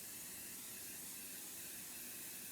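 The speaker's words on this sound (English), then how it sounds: "so what I'm going to do is I'm going to take hairspray." An old can of hairspray sprays onto a canvas in a steady, continuous hiss that stays faint and even throughout, with no voices.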